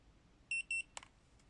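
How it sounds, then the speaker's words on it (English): Two quick high electronic beeps in succession, followed by a faint click, in an otherwise quiet room. "hold down the middle button until you hear 2 beeps"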